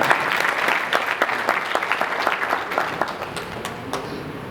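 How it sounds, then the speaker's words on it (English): An audience at a conference applauds, a crowd clapping with sharp, closely spaced claps that gradually thin out and fade toward the end. "Let's give her another double clap."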